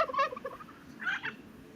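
Chickens kept somewhere with freezing winters give two short, bright clucking bursts in the background, one right at the start and another a second later, with quiet in between.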